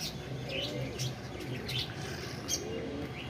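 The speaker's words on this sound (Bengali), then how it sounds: "জ্যাকবের কবুতরগুলো রয়েছে এখানে" Jacobin pigeons in a park aviary, with repeated short chirps and tweets over a steady murmur of background noise, plus faint low cooing. Birds sound close and fairly busy.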